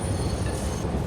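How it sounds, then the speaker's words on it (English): A small train rolls past in the factory-building video game Satisfactory, giving a steady rumbling rail noise with a faint high whine, continuous and fairly loud, with no talk over it. "And this tiny train is in front of us."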